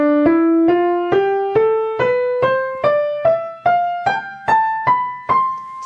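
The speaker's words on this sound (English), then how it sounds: "This is what it sounds like when you're playing that way." Piano notes struck hard and pressed deep into the keys, giving a harsh, percussive tone; about a dozen single notes climb steadily upward in an even rhythm, each attack sharp and loud, with no voices.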